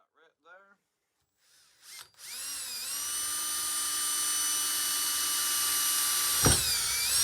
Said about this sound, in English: we're going to start with a 1/4 inch and make us a pilot hole in this